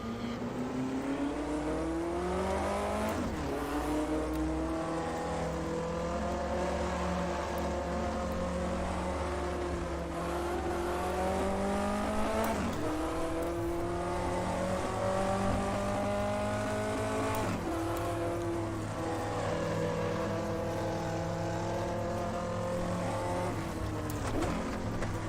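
Historic 1958 Formula 1 car racing at Silverstone in the Automobilista sim, its engine droning continuously up close with rising and falling revs through repeated gear changes and a brief tire squeal.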